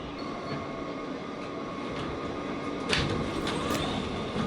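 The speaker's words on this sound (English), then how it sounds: "This is a Queens-bound F local train." Steady low rumble and rattle of a New York City F local subway train running along the tracks, continuous and fairly loud, with faint squeals and clicks, no talking.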